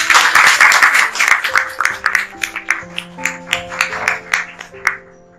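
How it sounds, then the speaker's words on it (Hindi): Audience applause at an Urdu/Hindi parenting talk, loud and full at first, then thinning into scattered claps with a sustained musical tone under them as it fades. "मैं आप सबकी पुरजोश तालियों में वेलकम करना चाहूंगा"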